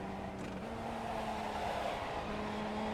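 Formula Ford race cars run wheel to wheel at Road Atlanta, a steady buzzing engine drone at sustained revs with a slight pitch shift mid-run, close and continuous.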